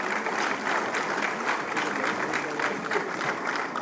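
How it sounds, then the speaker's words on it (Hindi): An audience at an investment summit ceremony in Uttar Pradesh claps loudly and continuously, a dense steady wash of applause with no pauses. "एक बार जोरदार ताली।"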